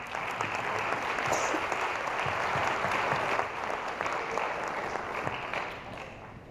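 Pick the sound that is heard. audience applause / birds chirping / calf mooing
audience applause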